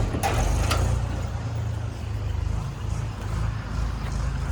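A tractor strains to pull a stuck Eicher truck loaded with sound equipment, its engine a loud, close, steady low rumble with a couple of knocks near the start.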